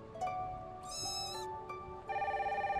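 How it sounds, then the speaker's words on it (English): A telephone ringing in the video game Stardrop, an electronic trilling ring repeating in bursts with a warbling tone, over a soft ambient game background, no voices. "Where is this phone ringing from?"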